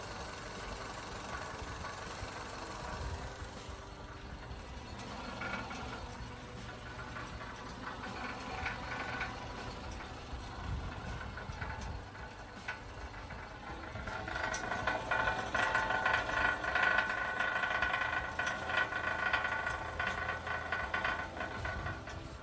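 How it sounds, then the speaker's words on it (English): A car engine idles with a low, steady rumble and a metallic buzzing rattle from exhaust vibration or a loose heat shield, the rattle growing louder toward the end. "it's obviously just some sort of exhaust vibration or heat shield."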